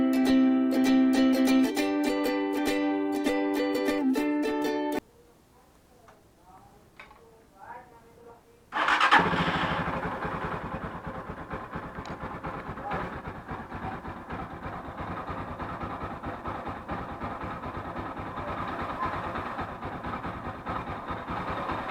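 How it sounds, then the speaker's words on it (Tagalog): A motorcycle engine starts and idles steadily without revving, a dense, continuous mechanical chatter that runs on alone after music and a brief quiet stretch. "make sure na pagka pinatakbo nyo siya, huwag nyo siya i-rev at magbilang lang kayo ng mga 5 seconds to 10 seconds"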